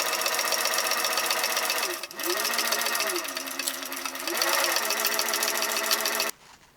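Sewing machine stitching ribbon along a backpack side seam with a 3/8-inch seam allowance; a fast, steady mechanical whir close by, briefly pausing and slowing mid-run, then stopping abruptly near the end.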